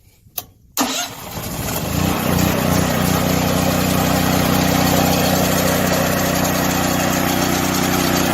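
DuroMax XP13000EH dual fuel portable generator starting on propane: a couple of sharp pull or click sounds, then the engine catches and settles into a loud, steady mid-pitched running drone close by.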